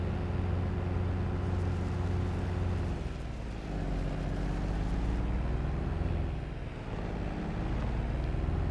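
A four-wheeler engine in Farming Simulator 2022 drones steadily at full throttle, topping out around 25, its pitch wavering as it climbs and settles over a small hill, loud and continuous with no talk.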